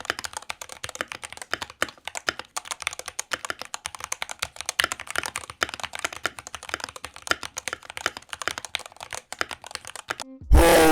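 Rapid, continuous typing on a mechanical keyboard fitted with Durock Linear switches, close and crisp clacks in a fast irregular rhythm, ending with a brief louder burst.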